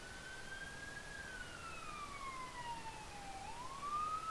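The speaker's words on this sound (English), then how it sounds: "No, it's an ambulance." A distant ambulance siren in the video game Farming Simulator 19 wails faintly in a single slow rising and falling tone over quiet background noise.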